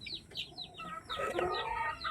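Hens cluck and chirp in a busy run, short repeated calls overlapping at close range with constant farmyard background, no talking.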